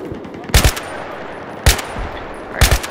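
Automatic gunfire in the video game Battlefield 3, three sharp loud bursts of a few shots each, about a second apart, over low background rumble.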